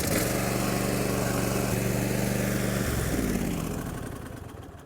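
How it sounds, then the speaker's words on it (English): A small engine on a Gravely mower puttering steadily at idle with a tonal hum after an oil change, then revving and shifting pitch before fading down toward the end. "The engine runs good"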